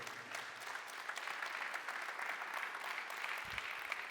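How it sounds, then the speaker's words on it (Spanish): A church congregation applauds steadily and fairly faintly, a dense even patter of many hands sustained throughout with no voices over it. "denle un aplauso fuerte al Señor."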